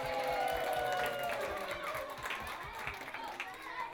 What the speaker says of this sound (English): Let's give a big round of applause for the San Francisco Public Library